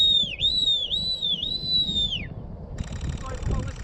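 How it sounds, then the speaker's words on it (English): A person whistles to call back a bird of prey at a bird of prey and rehabilitation centre, giving three rising-and-falling shrill notes. Wind noise and a further higher tone follow. "Sorry for whistling, I just have to call her back"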